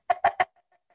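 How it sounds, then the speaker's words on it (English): Chicken cup noisemaker giving three quick, loud clucking squawks in a row, each a short burst, followed by a few faint trailing clucks. "it is a chicken cup because it sounds almost like the bok, bok, bok, bok, bok of a chicken"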